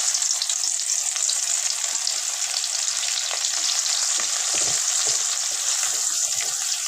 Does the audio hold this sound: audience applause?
no